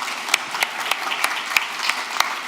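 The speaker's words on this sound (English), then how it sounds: "Perhaps we can give Carl and Andy a massive round of applause" An audience at a live conference show at CodeGarden 2025 applauds, with sharp individual claps standing out over a steady close wash of clapping.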